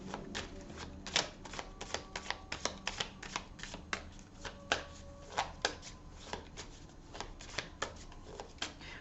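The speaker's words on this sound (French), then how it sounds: "alors on va tirer une autre carte pour y voir un petit peu plus clair" A tarot deck is handled and shuffled, with rapid crisp card flicks and taps in an irregular, busy rhythm, close and fairly quiet, with no talking.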